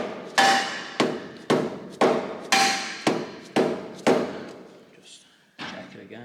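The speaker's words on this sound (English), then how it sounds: "ideally a rubber hammer for this" Rubber hammer knocking on the pulley of an ATV mower during a belt change: about eight sharp, evenly spaced thuds close by, then a short pause and one more knock.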